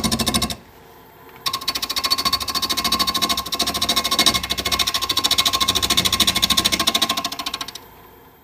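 Wood lathe turning the inside of a segmented maple bowl with purpleheart rings, a steady dense buzzing chatter of the tool on spinning wood that cuts out briefly near the start, then runs loud and continuous before stopping.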